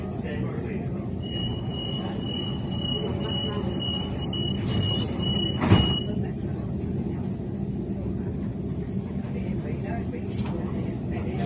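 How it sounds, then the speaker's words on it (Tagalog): Sydney train riding on rails, a steady rumbling roll with a thin high squeal of the wheels and a brief louder clatter, heard from inside the carriage with people talking. "Mula doon sa Bankstown na kung saan kami sumakay ng train"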